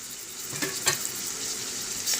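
Ginger garlic paste frying with onions in a pan, a continuous close hiss of sizzling with a couple of brief stirring scrapes.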